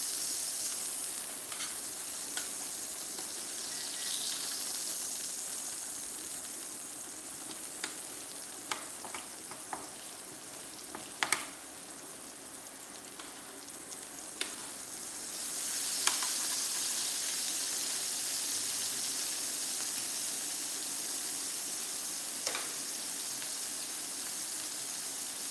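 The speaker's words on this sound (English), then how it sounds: "Get a little bit of basting over the top there." Food sizzles steadily in a frying pan while being basted during a Sunday brunch cook, a constant soft hiss with occasional sharp pops and crackles standing out over it.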